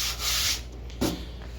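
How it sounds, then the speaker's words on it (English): Dry scraping strokes of a 36 grit sanding block worked over a Nissan Hardbody truck's door bodywork, a long rasp followed by a shorter second pass, quiet and close with no talking. "I started doing body work with 36 grit on this block here."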